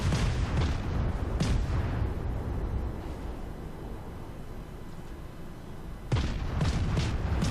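Heavy naval guns in World of Warships boom with armor-piercing salvos, each blast followed by a long rumbling decay, close and loud, with another burst of fire near the end.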